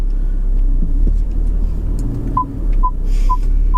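Short electronic beeps from a car's parking sensors repeat at an even pace over a steady low engine rumble, starting partway through and growing regular toward the end.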